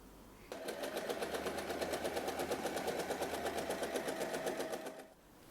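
A sewing machine stitches the sides of a tote bag together in one steady, rapid rhythmic run of about four and a half seconds, close and clear with no talk, stopping abruptly.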